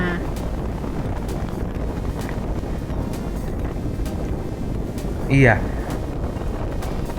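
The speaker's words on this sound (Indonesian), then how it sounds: "Nah, ini suasana di luar, kapalnya sudah mulai berlayar ya." Steady wind roars across the microphone on the outside deck of a ship as it sets sail, a constant broadband rush with a brief spoken word partway through.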